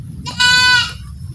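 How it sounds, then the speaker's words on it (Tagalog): A goat lets out one loud, clear, wavering bleat close by. Quiet background noise comes before and after it. "Magaling pa ang kambing na yan."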